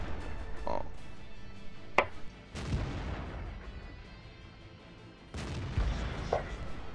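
Tank cannon fire in the video game World of Tanks, with a few heavy, spaced booms in a quiet battle soundscape and low rumble between the shots.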